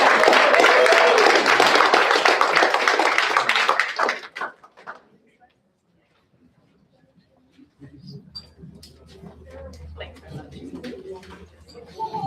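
Audience at a Town of Victoria Park citizenship ceremony breaking into loud, dense applause for about four seconds, then cutting off to near silence before quiet murmuring and talk resume.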